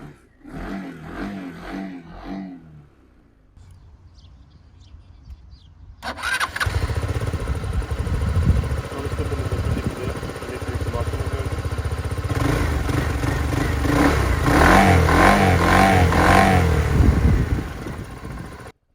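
An RKS Freccia 150 scooter engine cranks on its electric starter and catches, then settles into a steady, buzzing idle that continues close by, with a slight rise in revs later.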